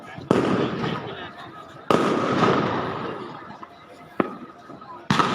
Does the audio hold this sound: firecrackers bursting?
yes